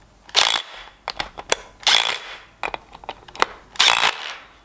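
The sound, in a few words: ratchet tightening bolts on a car engine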